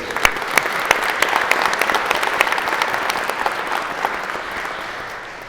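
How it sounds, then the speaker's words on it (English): Audience applause at a keynote speech in Spain, a dense burst of clapping from many hands that holds steady and slowly fades toward the end. "So a round of applause to yourselves."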